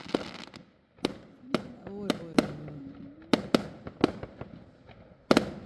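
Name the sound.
fireworks and firecrackers outside on Bonfire Night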